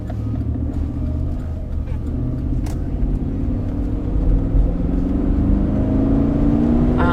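A 2011 Chevrolet Silverado LTZ pickup with a 6.2 liter engine accelerates, its low rumbling drone climbing steadily in pitch as it pulls harder, heard from inside the cab at fairly high loudness.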